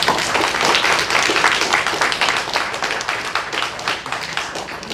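An audience at a press briefing gives a loud, sustained round of applause for a precinct's December award, with many hands clapping close by for about five seconds.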